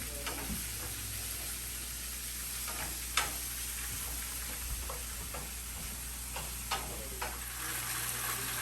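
Chicken sizzles in a frying pan as heat rises, a constant dense crackle with sharp spitting pops here and there, close by and free of speech.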